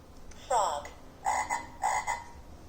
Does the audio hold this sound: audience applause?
no